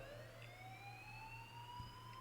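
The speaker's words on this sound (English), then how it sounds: "please turn off that alarm since that's your job" A continuous alarm wails in the Life Is Strange video game, its rising tones sweeping steadily over a low hum, loud and unbroken throughout.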